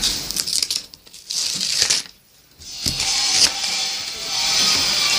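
Plastic packaging of an LOL Surprise doll is torn open, producing close, loud crinkling and ripping bursts with a short pause midway, then steady rustling.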